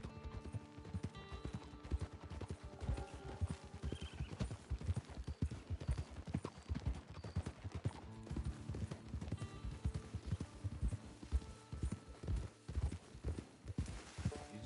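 Horse hooves clip-clopping in the video game Red Dead Online, a brisk, steady run of close hoofbeats on hard ground with a faint whinny, moderately quiet and without talk over it.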